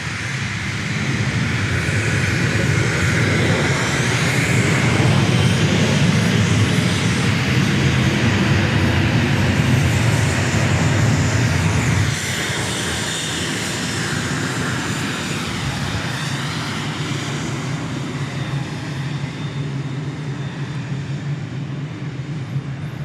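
A fixed-wing airliner arriving at Dallas Love Field roars loudly and steadily overhead for about twelve seconds, then drops to a lower, sustained engine rumble that fades gradually as it moves away.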